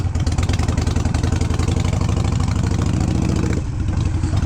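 Harley-Davidson Sportster 883 motorcycle fitted with a Hammer 1275 big-bore kit, its engine running loud and close with a steady, lumpy idle and a brief dip near the end.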